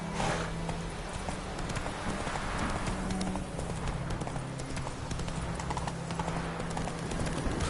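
Roach, a horse in The Witcher 3, gallops with a steady, rapid clip-clop of hooves, close and continuous under a low ambient hum, with no voices.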